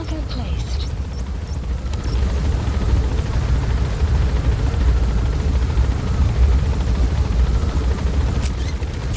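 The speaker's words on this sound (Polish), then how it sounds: "Te śmigłowce są kurczę strasznie wolne." A slow helicopter in the Afghanistan setting of the video game Metal Gear Solid V: The Phantom Pain, a steady, loud rotor drone filling the whole stretch, with low rumble and faint bursts of game sound.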